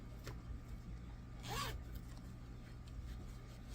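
A single quick zip of a small zipper on an octagon-shaped pouch, short and soft, against a quiet background hum.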